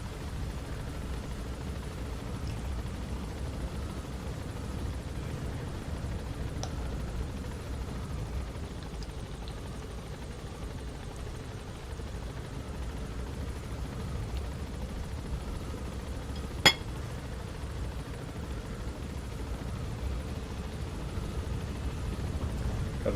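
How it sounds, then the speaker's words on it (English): Helicopter in the video game Metal Gear Solid 5, a steady low droning rotor hum that holds for the whole stretch at moderate level, with one brief sharp click partway through and no talking. "But this helicopter takes forever."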